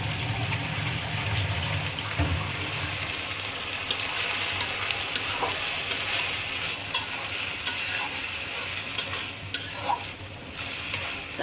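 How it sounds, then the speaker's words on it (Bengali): Beef curry frying and being stirred as a splash of water goes in, with a constant sizzle and repeated scrapes and clinks of the spoon against the pot. "এখন একটু পানি দিয়ে দেবো"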